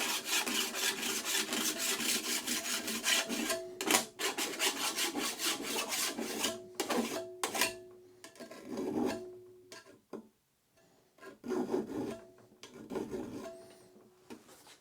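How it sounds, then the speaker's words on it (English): A file rasps back and forth along the edge of a metal sheet clamped in a carpentry vise, with fast rhythmic strokes, then slower, more broken strokes separated by short pauses. "I need 2 hands to finish cleaning up the edge on that sheet"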